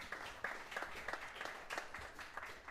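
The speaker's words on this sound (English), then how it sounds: "how about a round of applause for Mr." Audience applause for the drummer at a jazz quartet performance, steady scattered clapping with distinct individual claps throughout, moderately distant and with no talk over it.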